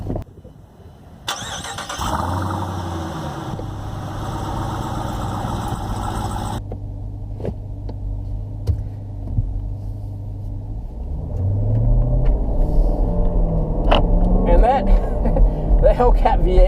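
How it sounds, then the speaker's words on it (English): The supercharged Hellcat V8 of a 2018 Jeep Grand Cherokee Trackhawk cranks and fires, settles into a deep, rumbling idle, then swells into a louder, growling rev at the end, with someone talking over it. "The Hellcat V8, I'll tell you, when you're driving slowly, you don't even realize it's there, except for the sound. It's supercharged."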